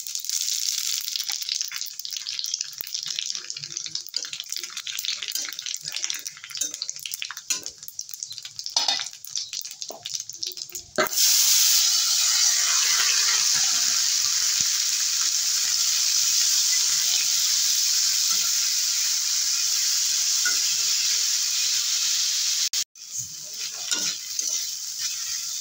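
Whole cumin, nigella and radhuni seeds sizzle steadily in hot oil in a pan for a Bengali chorchori, a loud continuous frying hiss with stirring scrapes, briefly interrupted then resuming.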